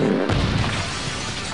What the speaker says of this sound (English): Really big explosions!